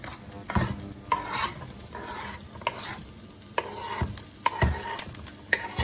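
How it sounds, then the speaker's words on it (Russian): Button mushrooms and onions fry quietly in a pan while a spoon stirs and scrapes in repeated strokes, with a soft sizzle in between. "мы сейчас будем обжаривать шампиньоны"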